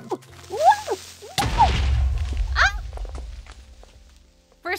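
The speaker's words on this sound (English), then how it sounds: "first creeper explosion." A creeper explosion in Minecraft: one sudden, loud blast with a rumbling tail that fades over about a second, set among short chirping and swishing game sounds.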